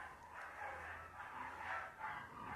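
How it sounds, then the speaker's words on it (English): Dogs bark back and forth in a noisy, sustained chorus on a Sunday, several animals going at it at moderate distance with a steady background hum underneath. "Having our Sunday bark fest."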